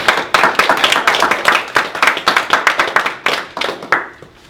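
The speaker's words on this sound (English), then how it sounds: "So let's give a round of applause for" Applause from a church congregation at a Methodist service: steady, close, loud hand clapping with a brisk irregular rhythm that tapers off near the end.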